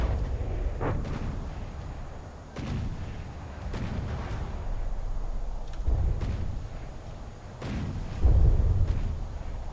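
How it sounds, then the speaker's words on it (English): Artillery fire hitting a warship in a naval video game, heard as a string of heavy booms and rumbling impacts spread across the clip, with a loud deep hit near the end. "The March immediately took a ton of fire"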